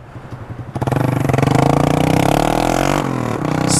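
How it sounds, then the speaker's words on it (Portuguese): A motorcycle with a straight-pipe exhaust pops at idle, then revs hard into a loud, raspy, sustained roar close by, with the pitch climbing and a brief dip near the end. "Vamos dar uma voltinha agora com a moto pra causar."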